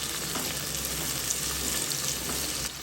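Onion and chopped tomato sautéing in a pan for koth chapathi, a continuous close hissing sizzle with faint stirring, no voices.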